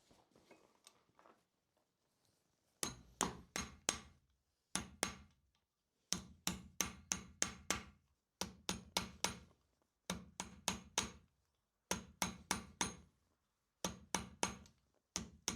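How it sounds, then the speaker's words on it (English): Copper edges hammered over a steel ball held in a vise, rapid bursts of four or five sharp ringing blows separated by short pauses, close and loud. "I'm gonna put the steel ball in the vise and try to hammer down the edges to get them smooth"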